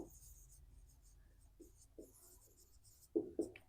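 Faint marker strokes on a classroom board while a heading is written for a physics lesson on Ohm's law, a few short squeaky taps and scrapes, with quiet room noise between.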